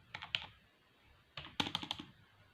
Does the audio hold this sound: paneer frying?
no